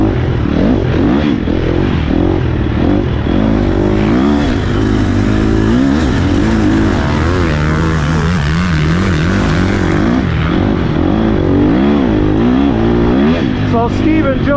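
A 2024 Husqvarna TE 300 Pro dirt bike roars loud and close during hot laps, its engine revving up and down continuously in wavering surges as the rider works the throttle.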